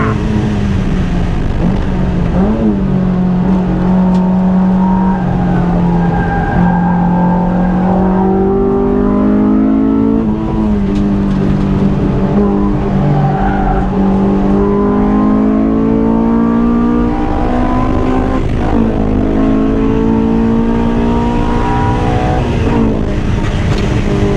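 Honda S2000 AP2 track car in fifth gear, a loud continuous engine drone heard from inside, pitch rising and dipping with throttle and corners throughout, no talk over it.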